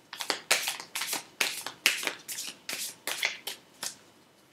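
Tarot cards being shuffled and drawn at close range: about ten crisp, papery bursts of riffling and flicking in a steady, uneven rhythm, with short pauses between them and no talking.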